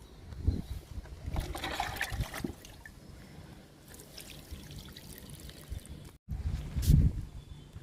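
Liquid fertilizer poured onto a pink vinca plant: a soft trickle of liquid with a couple of louder splashy pours near the start and end, close and without talk.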